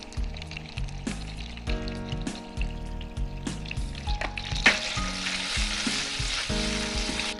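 Boiled baby potatoes, still in their skins and sprinkled with salt, fry in a pan with a steady close sizzle, punctuated by regular scraping stirs.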